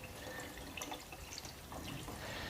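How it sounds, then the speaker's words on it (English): Water trickles and drips out of the slits in a seed-sprouting jar lid on a one-litre jar, a soft continuous splashing patter, close and fairly quiet, with no talking. "And you can see here that the water is draining out of these slits."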